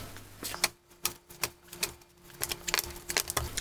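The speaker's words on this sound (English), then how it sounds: "So give them a good old shuffle." Cardboard board game tiles being shuffled by hand on a table, a run of sharp irregular clacks and scrapes, close and distinct, with no talking.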